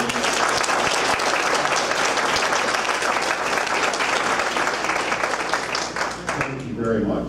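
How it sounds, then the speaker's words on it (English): Sustained applause from an audience at a Remax real estate celebration, dense continuous clapping that fills the whole stretch, briefly thinning near the end before swelling again. "Let's give them a big round of applause."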